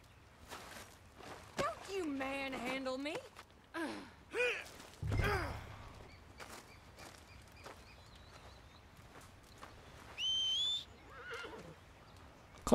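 A horse in Red Dead Redemption 2 gives several loud whinnies and snorts, with a sighing breath and light hoof clip-clop between them, while someone talks over parts of it.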